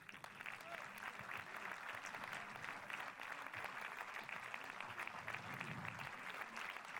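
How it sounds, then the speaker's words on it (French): A crowd applauds at the closing ceremony of the Saint-Jean-de-Luz International Film Festival, with even, continuous clapping throughout, heard at a moderate distance over faint crowd murmur. "Allez, vos applaudissements, le public."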